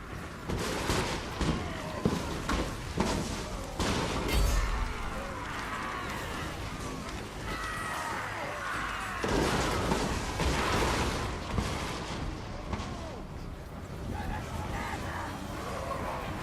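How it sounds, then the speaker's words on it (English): Dwarf gunners in Total War: Warhammer fire volleys at orc spearmen charging uphill, a dense, continuous crackle of gunfire and battle din with booming hits, loud throughout and swelling again midway. "The gunners got there first, shooting down orc spearmen who rushed up the hill."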